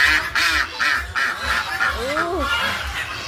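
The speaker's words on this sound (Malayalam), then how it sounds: "ഇതാ വേറെ താറാവ് ഉണ്ട്" Ducks at a pets park quack repeatedly in a regular series of loud, nasal calls, with a brief voice-like sound in the middle.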